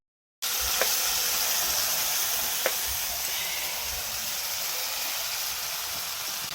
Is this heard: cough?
no